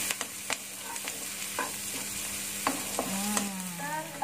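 Garlic is stir-fried with chicken in a pan for sweet soy chicken with fermented tofu. A steady sizzle runs under sharp clinks and scrapes of a spatula stirring, close by.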